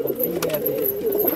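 Border-bred breeder pigeons coo up close in a short, soft, rolling burst, with faint background noise and no talk.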